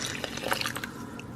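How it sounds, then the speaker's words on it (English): Hot water poured over chocolate lava cake batter and topping makes a brief, faint trickle with a few soft drips and splashes. "you're going to pour this hot water over the top of the batter and topping"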